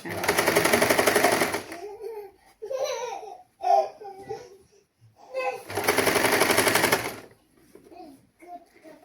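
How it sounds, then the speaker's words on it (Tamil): A sewing machine stitches a sari blouse in two loud bursts of rapid whirring, with someone talking in the pause between them. "இப்போ நான் வந்து இப்படி தைக்கிறேன்"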